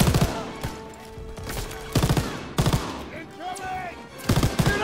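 Bursts of rifle and machine-gun fire crack loudly in a World War II battle from the Call of Duty: WWII video game, clustered volleys with short pauses, mixed with other combat sounds.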